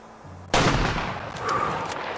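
A rifle fired at a Rocky Mountain elk in the hunting game Way of the Hunter 2, with a single sharp, loud shot and a rolling echo fading out afterward.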